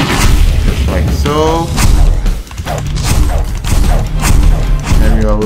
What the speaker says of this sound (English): Let's get close and shoot a fireball.